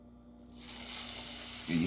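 Hot grease poured into cornbread dressing mix, a sudden loud hiss of sizzling that swells after a quiet start and keeps crackling steadily, with a brief stir sound near the end.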